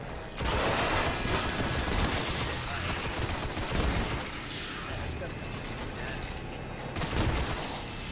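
Sniper rifle and other gunfire in Destiny, dense loud bursts of shots and booming impacts filling the scene in a chaotic continuous barrage, with a few louder cracks standing out.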